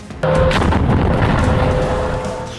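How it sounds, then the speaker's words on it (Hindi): An anti-tank missile strikes a military post: a sudden loud blast that rolls into a sustained, roaring rumble as the post collapses and burns, slowly fading, with no voices. "पहले धमाका, फिर पोस्ट का बड़ा हिस्सा ढह जाता है और आग लग जाती है।"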